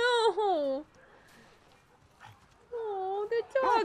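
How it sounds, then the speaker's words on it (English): Bear, a dog in The Last of Us Part 2, gives high, wavering whimpers in two bursts separated by a quiet gap, close and clear, with a short voice between them. "What a sweet dog."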